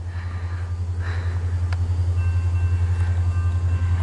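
A Norfolk Southern westbound train passes through Fostoria, Ohio, sending a steady, loud low rumble with a faint high squeal of wheels on rail over it.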